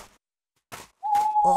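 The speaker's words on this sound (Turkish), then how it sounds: "Oo, bir baykuş." An owl hoots once in a quiet night setting, a steady sustained tone following a few soft rustling bursts.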